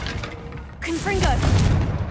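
Fiery Confringo blast from Hogwarts Legacy, a sudden booming whoosh with a bright crackling tail, loud and close, with a chirpy voice-like sound overlapping the burst.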